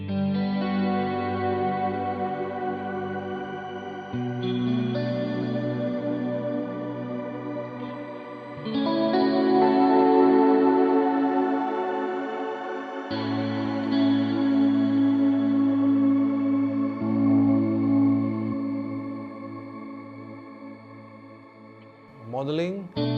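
Boss CE-2 vintage chorus model on a Quad Cortex with an ambient setting, shimmering and warbling over sustained clean guitar chords and single notes, loud and close with a lush reverberant tail, no talk.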